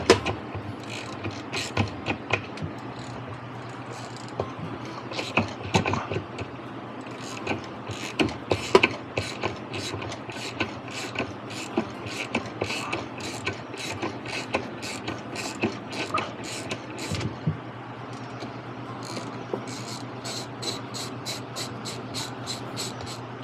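A ratchet loosens a 7/16 inch bolt at the bottom of an old Kenmore washer's agitator, a long run of close, crisp, evenly spaced clicks broken by brief pauses and repositioning knocks.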